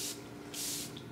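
Two quick bursts of a Peach and Lily facial mist spray hiss close by, separated by a short pause, alone without talking.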